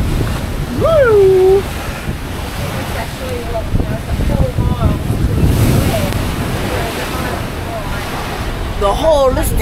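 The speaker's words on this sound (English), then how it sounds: "the sea is rough and angry" Rough sea off Largs, Scotland, heard from a boat: steady roar of wind buffeting the microphone over washing waves, loud and continuous, with voices calling out over it.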